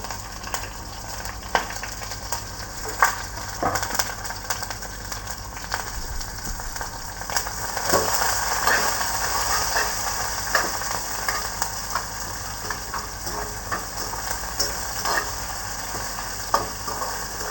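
Curry leaves, onion and chilli sizzle steadily in a pan, a close, continuous frying hiss punctuated by regular clinks and scrapes of stirring, with a low background hum throughout.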